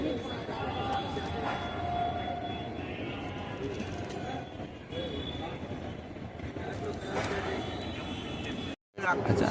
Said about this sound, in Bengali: এই ব্রিজের উপর দিয়ে ট্রেন যাচ্ছে।